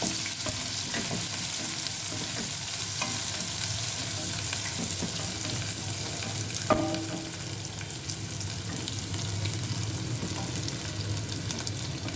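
Chopped onion pieces frying in a pan for sago upma, a dense, continuous sizzle that holds steady throughout with faint clinks of stirring, no voices.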